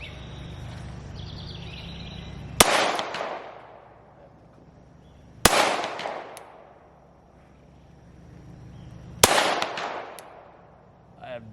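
Three sharp handgun shots fired at a 75-yard target on an outdoor range, each loud crack spaced a few seconds apart and trailing into a decaying echo, with faint background sound between.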